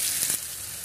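Garlic sizzles in hot oil in a wok, a bright steady hiss with a short burst of crackling early on, heard up close and without speech.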